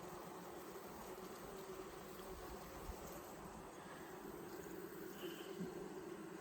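Honeybees buzzing around an open hive, a faint, steady drone under a windy outdoor hiss, continuous and fairly distant with no talking.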